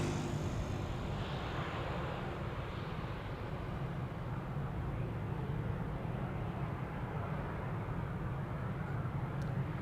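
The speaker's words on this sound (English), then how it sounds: "And we have a KLM Embraer 190" A KLM Embraer 190 jet taking off at Amsterdam Schiphol Airport, heard as a steady, loud broadband engine roar that holds constant and fills the whole stretch without a break.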